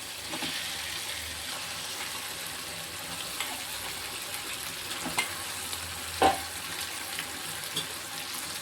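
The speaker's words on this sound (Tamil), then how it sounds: "இப்போ வந்து நம்ம ராலை போடுவோம் நல்லா கழுவி வச்சுருக்கோம்" Prawns frying in a pan with softened onion and tomato for a prawn gravy, with a steady low sizzle and a few light scrapes and taps of a spoon, close and fairly quiet.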